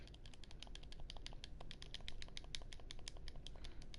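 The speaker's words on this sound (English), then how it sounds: "I don't know if you can hear the clicking of my buttons" Game controller buttons clicked rapidly during a fighting game, a dense stream of sharp, faint plastic clicks in irregular bursts, close and quiet with no talk.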